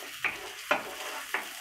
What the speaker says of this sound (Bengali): ভালোভাবে একটু কষিয়ে নিব।